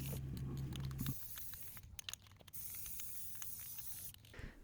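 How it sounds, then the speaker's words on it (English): An aerosol can of spray paint hisses in short bursts onto PVC pipe, a broad airy spray that starts and stops several times, with faint handling clicks between passes. "paint the PVC with light coats of spray paint"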